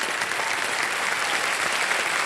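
A game show studio audience on Kaun Banega Crorepati claps steadily and loudly, a dense wash of applause with no pauses.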